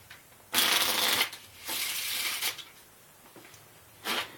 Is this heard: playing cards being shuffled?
yes